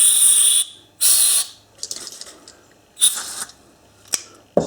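Spray can of carburettor cleaner hissing onto the carburettor of an MTD ride-on mower with a surging engine, in two long close bursts followed by shorter spurts and a final quick puff.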